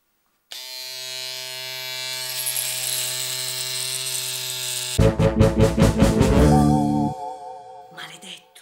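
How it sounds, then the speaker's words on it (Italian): An electric razor buzzes loudly and close for several seconds. It shifts to a rough, rattling grind partway through, then cuts off. "Maledetto, ti odio, il rasoio elettrico."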